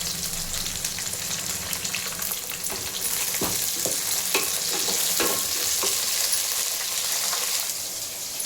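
Onion and green chilies frying in a pan for sambar, a continuous close sizzle with clustered spoon scrapes and clinks in the middle, no speech.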